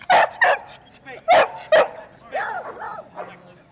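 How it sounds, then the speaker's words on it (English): Several dogs bark and yip at a dog contest with a best-bark category, a few sharp loud barks in quick bursts followed by softer whining, yelping sounds, with crowd murmur faintly underneath. "Other categories are best bark, biggest dog, smallest dog, dog that looks the most like Jim."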